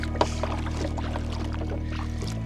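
Kayak paddling on a lake, with soft water splashes and a drip or two from the paddle over a steady low hum, heard close with no talking.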